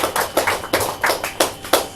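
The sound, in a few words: applause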